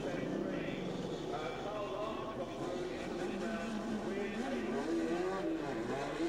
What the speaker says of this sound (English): Len Clark with the normally aspirated bike gets marginally the better start